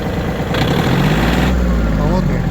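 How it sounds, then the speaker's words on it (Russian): A small diesel engine of a Yanmar F-190 4WD Japanese mini tractor idles steadily with a low, even rumble and no odd noises, and someone talks over it throughout. "слышно, что двигатель работает весьма ровно, никаких посторонних звуков, шумов нет"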